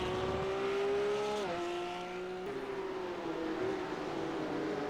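A race car in a racing video game spins out at Sebring under too much throttle on a corner exit, its loud engine note dropping in pitch as it slides around, with a sustained, steady roar throughout.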